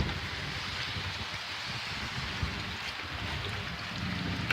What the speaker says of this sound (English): It's pouring rain, so hopefully I don't get too wet.